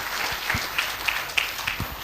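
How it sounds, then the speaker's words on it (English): Applause for an ambassador at a university public lecture, a few sparse distinct claps spaced out with light crowd noise, fairly quiet and brief. "Give Ambassador Dr. Fasil a big round of applause."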